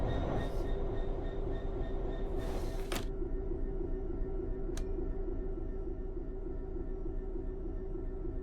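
A Class 66 train rolling in the Train Sim World game, a steady dense rumble of wheels and engine with a faint tonal hum, a few sharp clicks on top, and no voices.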